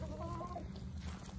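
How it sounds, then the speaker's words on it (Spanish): Free-roaming chickens clucking and murmuring close by outdoors, with soft continuous low chatter from several birds and a steady outdoor background. "las gallinas."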